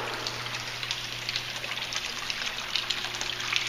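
Water sheets down the Hitchner wall fountain in Massachusetts, a steady close splashing trickle with a constant low hum beneath it and no voices.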